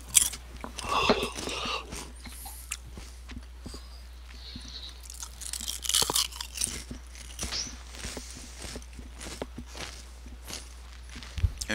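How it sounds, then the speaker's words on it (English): Crunchy food is chewed close to a microphone during a game development livestream, with irregular crisp bites and crunches repeating over a steady low hum. "Enjoy the crunch."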